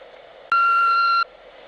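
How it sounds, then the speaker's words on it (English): A single electronic answering machine beep, one steady pure tone lasting under a second, loud and alone over a faint line hiss. "leave a message after the tone"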